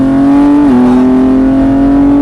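A car at full throttle on a race track gives a loud, close, steady engine note with a brief dip in pitch, then holds its strong droning tone to the end.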